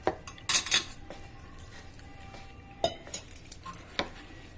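Spoon stirring one spoonful of gram flour in a dish, with scattered metallic clinks and scrapes against the dish in short bursts, some sharp and close, with quieter gaps between them.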